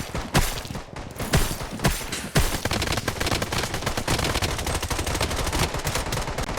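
Rapid bursts of automatic gunfire in the shooter game Blood Strike, loud and close, with dense sharp repeated shots in clusters and nearly continuous fire in the second half, no talking.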